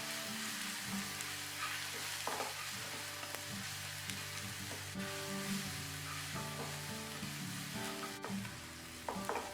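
Turmeric, red chili powder and garam masala fry in a pan for masala rice, giving a steady close sizzle broken by the scrape and knock of a spoon stirring.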